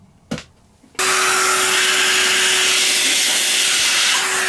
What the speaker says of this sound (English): I'm going to Hoover this next